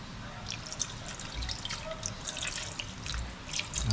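Water poured into a pot of paksiw na bangus, milkfish cooked with vinegar and okra, makes a quiet trickle with scattered light drips and splashes, close by and faint.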